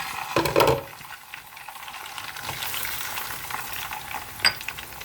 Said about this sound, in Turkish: Kavrulan ciğer ve kuyruk yağımızın üzerine hemen ciğerleri boşaltalım.